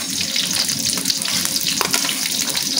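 Onion and garlic frying in a pan while cooking crab with banana blossom, a steady close hiss and sizzle with water-like crackle throughout, no talking.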